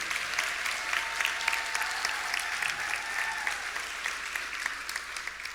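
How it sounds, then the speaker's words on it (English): Graduation ceremony audience applauding the commencement speakers, a steady sustained round of many hands clapping at a moderate distance in a large hall. "another round of applause for our amazing commencement speakers."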